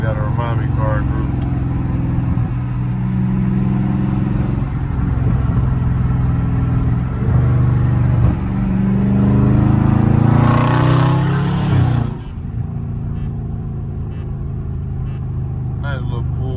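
A Dodge Charger Scat Pack rumbles loudly from inside the cabin in traffic, its deep engine drone swelling into a rev and then settling, with someone talking over it.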